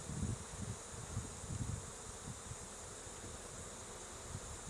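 Honey bees hum around an open hive during beekeeping, a continuous low buzzing drone with faint rustling and a quiet background hiss, no voices.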